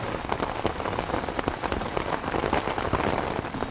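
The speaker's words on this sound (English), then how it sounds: "Rain on the canvas." Steady rain pattering on taut canvas in a VR video game, dense and continuous with scattered sharper drops, fairly close and even in loudness.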